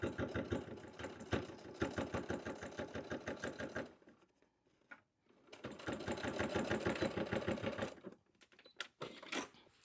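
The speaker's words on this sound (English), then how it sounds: "So lay it under your presser foot, and at 1/4 of an inch, we're gonna stitch right across" A sewing machine stitches a quarter-inch seam across fabric for a bag, with two rapid, rhythmic bursts of stitching separated by a pause and short stops near the end.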